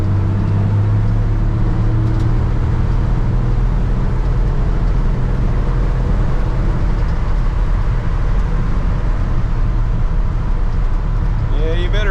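A 1960 Ford F100 truck engine drones loud and steady from inside the cab on a road test drive, a constant low rumble with road noise throughout and no break in the sound.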